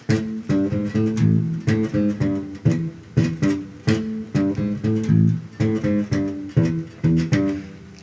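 Funk bass guitar notes picked one at a time in a steady arpeggio pattern, clean and close, with short gaps between repeating phrases and no voices.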